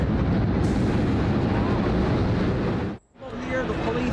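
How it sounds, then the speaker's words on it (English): Huge explosion at the World Trade Center towers, a loud sustained roar with rumbling debris fall and wind buffeting, cutting briefly to near silence before shouting voices and commotion resume. "A huge explosion now raining debris on all of us."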